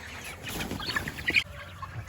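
A flock of about sixty young hatched replacement laying hens on pasture clucks and chirps softly in scattered bursts close by, with a light outdoor background.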